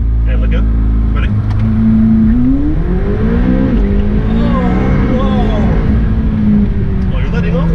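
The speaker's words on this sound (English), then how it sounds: "Waiting full throttle, so hit it." A McLaren 720S launches hard at full throttle, its engine note climbing and sweeping upward in pitch as the car accelerates, loud and close with a steady rising roar throughout, with voices talking briefly over it.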